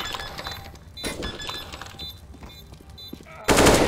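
Gunfire from Counter-Strike: Global Offensive on the Mirage map, a few sharp shots scattered through quiet game ambience, then a loud burst of fire near the end.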